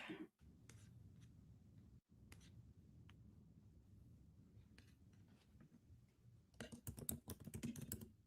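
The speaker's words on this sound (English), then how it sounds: "Can you hear me typing?" Quiet keystrokes patter on a computer keyboard in irregular bursts with brief pauses, ending in a faster, louder flurry of clicks.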